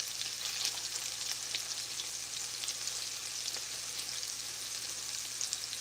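Chicken frying slowly in a pan, a steady soft sizzle with faint crackles throughout and no speech.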